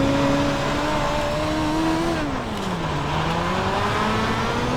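A midget race car engine howls loudly and steadily in a sim racing game at the Chili Bowl dirt track, its pitch dipping briefly as the throttle lifts, then rising again, with no voices.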